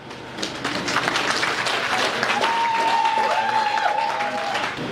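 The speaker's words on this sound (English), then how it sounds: "Please, a round of applause for her." Applause fills a hall during a rice seedlings distribution event as the audience claps steadily for an honoree, with a faint whistle-like tone and some crowd noise mixed into the sustained, fairly loud clapping.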